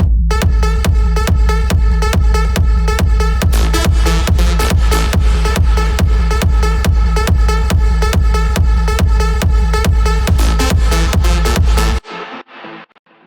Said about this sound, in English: you can get really clean sounds on the leads. So they sound like this.